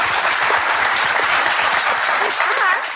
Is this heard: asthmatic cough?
no